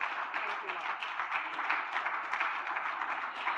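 Steady, dense applause from an audience at an Erasmus+ pre-departure orientation, greeting the Minister of Education; continuous clapping at moderate distance with no voices over it.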